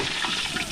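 Freshly caught fish frying in hot oil outdoors, giving a steady, close, dense sizzle that hisses without pause and with no voices over it.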